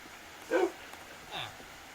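A dog from a Minecraft pet mod gives two short, faint barks or yips about a second apart over quiet background.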